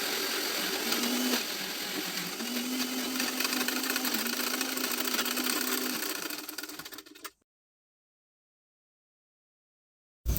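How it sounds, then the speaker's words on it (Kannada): A sewing machine stitches side tucks on fabric, running with a steady close whirring hum for about seven seconds before stopping abruptly into silence. "ಇದು ಸೈಡಲ್ಲಿ ಇರುತ್ತಲ್ಲ ಆ ಟಕ್ಸು ನಾನು ಸ್ಟಿಚಿಂಗ್ ಮಾಡ್ತಾ ಇರೋದು"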